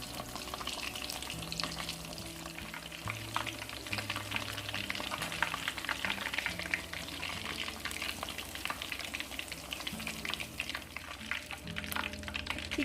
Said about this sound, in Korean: 두 번째 튀깁니다.